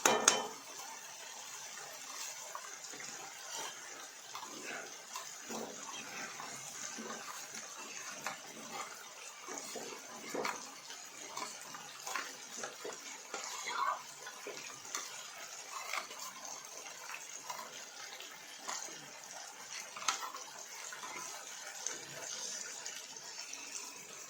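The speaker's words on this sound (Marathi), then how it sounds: "आता हे पाणी याच्यामध्ये मी हे व्हेज मंचुरियनची मसाल्याची मिक्स करून टाकते" Faint clinking and soft swishing of veg Manchurian masala mix being stirred into water in a pot, quiet and continuous with small scattered taps.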